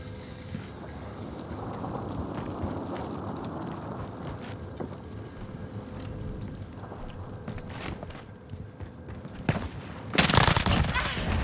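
Gunfire in the shooter Call of Duty Warzone crackles in dense, continuous bursts under game voice prompts and background action, with a louder, harsher volley erupting near the end.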